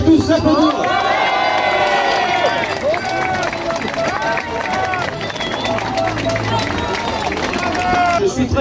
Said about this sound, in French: Vous pouvez tous l'applaudir